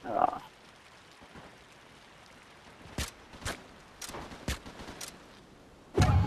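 Bursts of gunfire in the video game Uncharted 3, fired at the player: five sharp, fairly distant shots spaced irregularly over a quiet backdrop, with a louder thump at the very end.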